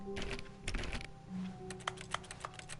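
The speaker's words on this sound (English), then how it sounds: "All you hear is like typing." Rapid typing on a computer keyboard, bursts of close, crisp key clicks with short pauses between, over a faint background hum.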